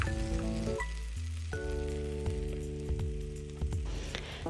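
Tomatoes simmering in a pan on low heat for a dhaba-style egg masala gravy, giving a steady close sizzle with soft crackles beneath a faint, sustained tonal hum.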